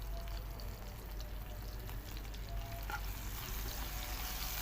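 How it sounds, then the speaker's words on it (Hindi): Cumin seeds crackle and sizzle in hot oil for a dal tadka, a steady, close frying hiss with scattered pops and no talking. "अब इसमें हम थोड़ा सा ज़ीरा ऐड करेंगे।"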